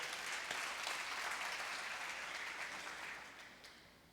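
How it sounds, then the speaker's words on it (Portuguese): Church congregation applauding, a dense, even clapping wash that starts strong and slowly fades toward the end, quiet and somewhat distant. "Você pode aplaudir e ficar de pé?"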